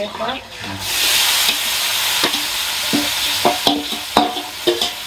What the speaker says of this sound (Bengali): মাংস দিয়ে দিলাম, আমার পেঁয়াজ ভাজি